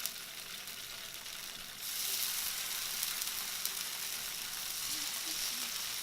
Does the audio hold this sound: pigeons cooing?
no